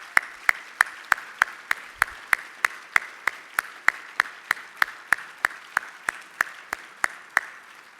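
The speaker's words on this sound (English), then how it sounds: "Please give them a round of applause and thanks" Slow, evenly spaced claps at a formal dinner, roughly three per second and fairly faint, sounding like a single pair of hands or a small sparse group rather than a full room.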